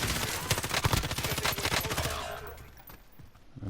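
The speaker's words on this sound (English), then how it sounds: "Some pretty poor shooting there, some friendly fire there" Rapid bursts of gunfire from a video game battle with friendly fire, dense and loud for about two seconds before fading to quieter background noise, with a final shot near the end.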